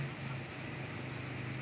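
Steady rain hisses and patters across open water at a reservoir during a fishing outing, a dense, even wash of drops with no voices.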